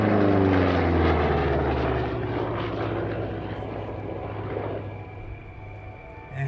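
A P-47 propeller fighter plane flies past at an airshow, its engine drone loud and steady with a low harmonic hum that slowly fades as it moves away.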